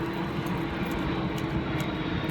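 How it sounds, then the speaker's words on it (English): A fixed-wing airplane passes overhead as a loud, continuous engine roar heard alone and without talk. "There's a plane."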